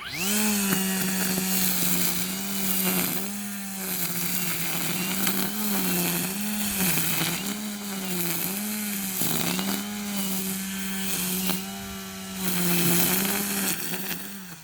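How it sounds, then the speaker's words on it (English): EGO 56V battery weed trimmer cutting through brush and tall grass, a loud buzzing whine that rises and dips in repeated surges as the line bites into the growth, close and continuous. "I'm going to go ahead and run the weed whacker right through it"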